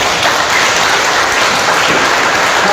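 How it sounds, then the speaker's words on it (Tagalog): A church congregation claps for the Lord during a worship service, dense sustained applause filling the room loudly and evenly, with no voices standing out. "pumalakpak sa Panginoon"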